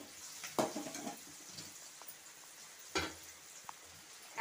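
Crushed garlic, cardamom and cinnamon fry with onions in a pan, giving a faint, steady sizzle broken by a few brief louder bursts of stirring.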